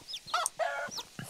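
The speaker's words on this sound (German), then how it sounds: "hier liegen ja die Hühner" Chickens in the medieval village farming game Medieval Dynasty cluck in a few short, bright bursts, fairly close and clear, with no talking over them.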